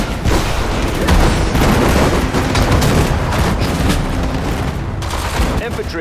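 Infantry gunfire in the video game Sudden Strike 4 keeps up as dense, continuous volleys of rifle and machine-gun shots with booming blasts, loud and busy throughout, while voices call out over the battle.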